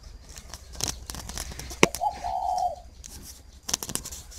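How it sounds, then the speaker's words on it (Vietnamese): A spotted dove coos toward a female in a rural northern Vietnamese setting, a short low cooing phrase rising mid-clip, close and clear, framed by sharp rustling and crinkling handling noises before and after. "Gù con mái rồi, gù con mái rồi."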